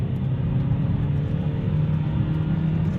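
A 2015 Vauxhall Insignia 140 SR car accelerating through the gears, heard from inside as a steady low engine drone and road rumble, fairly loud and continuous.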